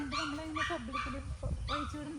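A dog shut in a cage barks repeatedly, about five fairly quiet, yelping barks in an uneven rhythm, slightly distant.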